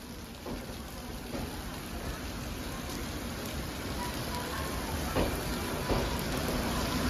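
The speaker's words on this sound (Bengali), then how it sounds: "দেখো সমানে বৃষ্টি পড়ছে।" Steady rain falls continuously, a soft, even hiss of drops at moderate distance that builds slightly over the stretch, with no talking.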